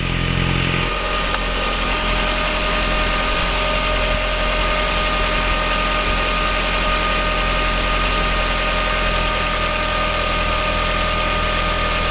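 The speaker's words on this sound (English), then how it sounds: "You can hear the revs are slowly dropping." A 2002 VW Beetle 1.8T engine idles with a constant droning hum and slight vibration, revs slowly dropping, steady and close throughout, no talking.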